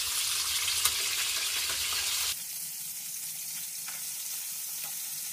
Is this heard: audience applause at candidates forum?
no